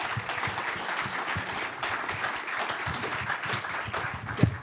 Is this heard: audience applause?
yes